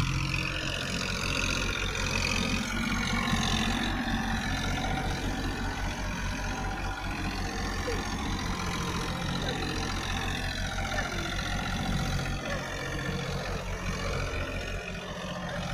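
Jivo 365 DI 4WD tractor engine idling, a steady continuous mid-to-low rumble held at an even level throughout, with no speech over it.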